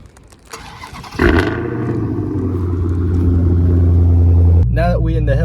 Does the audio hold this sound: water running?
no